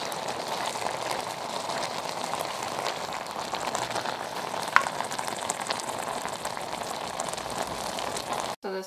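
Apples cooking down in a pot for homemade applesauce, a steady dense bubbling sizzle like light rain that runs evenly throughout, with one brief click and a short knock at the end.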